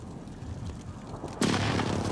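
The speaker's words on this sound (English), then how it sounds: "Friendly precision airstrike inbound." Call of Duty: Warzone precision airstrike landing in a sudden heavy explosive boom after a low rumble of ambience, followed by a sustained loud roar.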